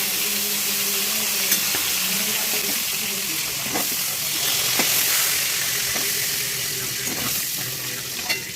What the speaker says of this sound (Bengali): এবার একে একে আমরা ভেজে নেব